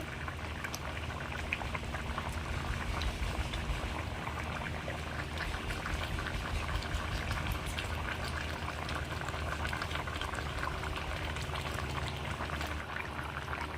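Vegetables boil in a pot with a steady, fairly quiet bubbling that carries on evenly from start to finish, without voices.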